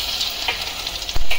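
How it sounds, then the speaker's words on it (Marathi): Chopped garlic hits hot oil already seasoned with cumin, producing a loud, close, crackling sizzle with a sharper burst of spattering near the end, and no talking. "आता हा लसूण आपण चिरून ठेवला हा घालणार आहोत"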